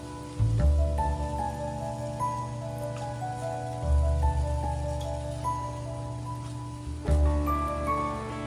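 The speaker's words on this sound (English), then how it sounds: "Okay, it's randomly raining." Rain falls outdoors in a garden as a steady patter and hiss. Several heavier low thumps come and go through it, with no voices.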